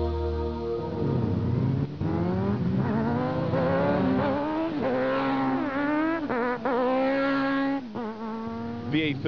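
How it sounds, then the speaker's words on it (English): Hundreds of motorbikes roar past on the A32 between Wickham and Alton on a busy summer Sunday, engines rising and falling in pitch as they accelerate, loud and continuous with several overlapping passes and no talk. "the roar of hundreds of motorbike engines"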